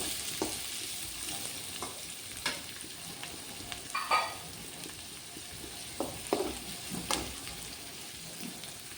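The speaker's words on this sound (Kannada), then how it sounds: "ಇದನ್ನ ಹಾಕಿ ಚೆನ್ನಾಗಿ ಫ್ರೈ ಮಾಡ್ಕೊಳ್ಳಿ." Chopped onions fry for egg fried rice with a soft continuous sizzle, broken by quiet scrapes and taps from a spatula stirring the pan.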